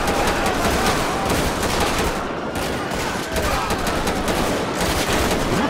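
Rapid, continuous automatic gunfire crackles in a shootout in GTA 5 with a police mod, dense volleys overlapping with little pause while a player talks faintly underneath.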